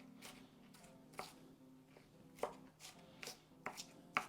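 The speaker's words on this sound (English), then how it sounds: "I'm gonna chop them and add them to these cowpeas" Onions are chopped with a knife on a board for a cowpea dish, about a dozen crisp, uneven cuts close by and fairly quiet, with no talk over them.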